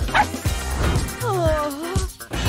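A dog barks and yips excitedly up close, with whiny, pitch-sliding yelps mixed in between the barks.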